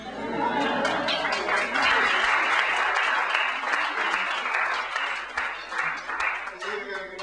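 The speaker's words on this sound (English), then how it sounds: "listen, you can clap" An audience at a Friday-night poetry reading claps in a sustained round of applause lasting several seconds, with some murmured chatter and a voice mixed in underneath.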